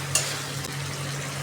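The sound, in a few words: stirring frying potatoes in a pan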